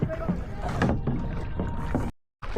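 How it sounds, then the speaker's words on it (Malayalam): Kayak paddle strokes splashing in water at a steady rhythm, close by, in Alappuzha, with people talking over it before a brief silence. "നമ്മളിപ്പോ തുഴയുകയാണ്"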